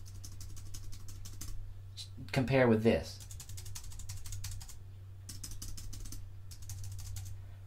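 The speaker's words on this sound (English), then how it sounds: "First of all, the sound. The sound of these keys is different." Fingers type on a Matias Space Gray aluminum wireless keyboard for Mac, sharp close key clatter in rapid bursts with brief pauses, interrupted midway by a short spoken question before typing resumes.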